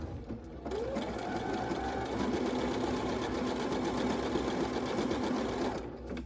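A Brother CS5055 PRW sewing machine runs steadily while stitching a monogram stitch with the monogramming foot, a close, continuous mechanical whir starting after a brief pause and stopping just before the end.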